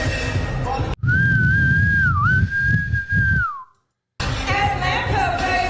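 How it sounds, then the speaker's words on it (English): One long, sustained whistle blast rings out over crowd noise at a political campaign rally, wavering slightly in pitch before cutting off into brief silence. "Blow the whistle."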